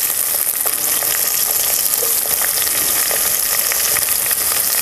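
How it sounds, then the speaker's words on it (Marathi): Chopped onion fries in hot oil in a pan, producing a loud, dense, continuous sizzle with faint scraping from stirring, close up and with no voices. "कांदा आहे ना आपल्याला लालसर होईपर्यंत परतून घ्यायचं आहे"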